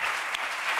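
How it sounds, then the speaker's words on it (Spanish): Studio audience applause on a Spanish late-night talk show, a brief, steady burst of many hands clapping together, loud and close. "Un aplauso para Kino."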